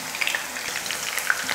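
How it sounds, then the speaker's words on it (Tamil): Mutton kofta balls frying in hot oil, a soft, steady sizzle with light crackling pops and a brief stirring scrape, fairly quiet and close. "அதுக்காக தான் இப்போ நான் இப்படி பொரிக்கிறது"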